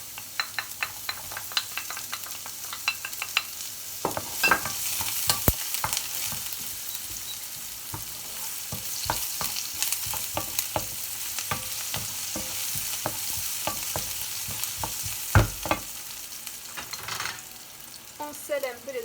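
Onions sizzling and frying in a pan as buns with minced meat and potato are prepared, with frequent sharp scrapes and knocks of stirring over a steady, close crackle.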